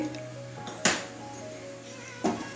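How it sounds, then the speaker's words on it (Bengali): A metal kadai is set down on a gas stove with two distinct, close metallic clanks about a second and a half apart over a quiet background. "কড়াইটাও বসিয়ে দিচ্ছি"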